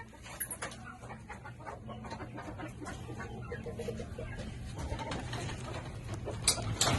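Chickens and young roosters (stags) at a small backyard farm make steady clucking and cooing calls. The fowl calls layer over each other for the whole stretch with no one talking.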